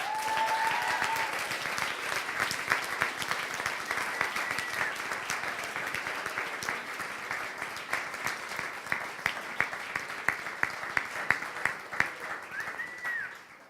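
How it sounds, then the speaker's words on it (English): Audience at a coding bootcamp demo day in Berlin applauds, a sustained crowd of many hands clapping, dense and steady, somewhat distant, with a few sharper claps near the end. "a big round of applause for you all."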